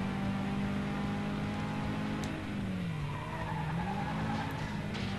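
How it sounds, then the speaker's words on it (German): A car drifts around a corner in FlatOut 2, tires squealing in a long sliding whine over a steady engine drone. A continuous, loud scrub that bends in pitch as the slide goes on, with no talk. "Schön um die Kurve gedriftet."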